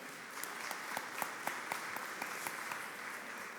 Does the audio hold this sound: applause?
yes